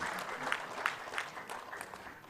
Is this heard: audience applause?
yes